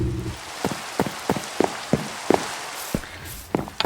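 Rain in the video game Minecraft, a steady patter on surfaces with sharper irregular taps and thuds standing out roughly every half second, fairly loud and close, with no talking.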